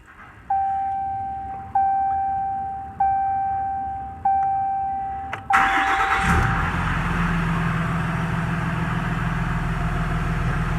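Truck with a G56 dual-disc transmission filled with Mobil Delvac 50 starts after a series of regular warning chimes, then its engine catches and settles into a loud, steady diesel idle.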